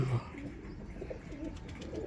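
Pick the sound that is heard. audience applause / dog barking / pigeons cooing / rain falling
pigeons cooing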